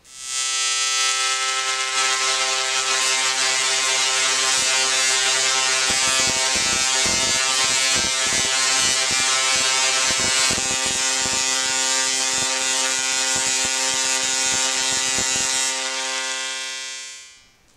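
A large DRSSTC Tesla coil discharges into a plasma globe, giving a loud, steady electric buzz with rich harmonics and rapid crackling bursts through the middle, running continuously for about sixteen seconds before cutting off.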